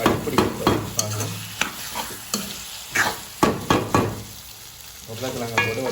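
Ginger garlic paste stirred in a pan for spicy Jaffna-style chicken curry, with repeated scraping strokes of a spoon over a soft sizzle, close and rhythmic.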